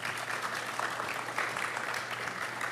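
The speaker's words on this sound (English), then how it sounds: "Big round of applause for these kids." Audience applause at a youth builders' showcase event, a steady continuous wash of clapping from a crowd, moderately loud and sustained throughout with no talk over it.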